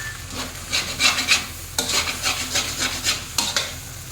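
Seafood fried rice with large shrimp is stir-fried in a hot pan, with loud rhythmic scraping and tossing strokes over a steady sizzle, close and continuous with no talk.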